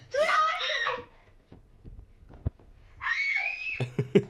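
Two loud, high-pitched screams burst out indoors in an old home video right after a door is closed, separated by a quiet gap with soft knocks and thumps at the end.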